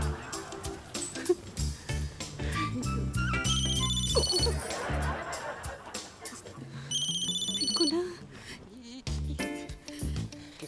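A mobile phone ringtone plays its repeating electronic melody loudly at a party, ringing on and off over background chatter and voices.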